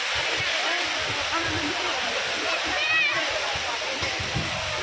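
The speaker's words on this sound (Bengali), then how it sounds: "সেই ঝর্ণা" A jungle waterfall at Kanching Templer's Park in Selangor, Malaysia, roars as a steady, broad rush of falling water, close and continuous, with faint voices mixed in.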